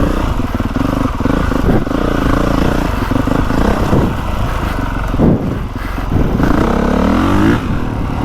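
A 2025 Honda CRF450R motocross bike rides a soft dirt track, its single-cylinder engine loud and close, revving and pulling hard with brief throttle dips and clattering chassis noise.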